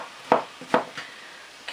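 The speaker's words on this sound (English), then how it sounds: "with the courgettes, I'm going to quarter those and cut them around about the same sort of size" A kitchen knife cutting courgettes into quarters on a board, a few distinct, irregularly spaced chopping knocks, close and fairly quiet.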